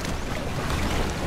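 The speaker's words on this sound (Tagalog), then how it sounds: "Yan yung alon." Ocean waves wash and rush in a steady broadband hiss near a cave on the sea, with no voices.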